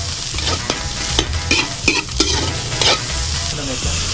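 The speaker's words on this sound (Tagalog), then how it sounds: "ginigisa ang buong hipon na tinadtad para mas maging malasa" Whole chopped shrimp are being sautéed, with a steady close sizzle and frequent stirring and scraping in the pan, all without talk.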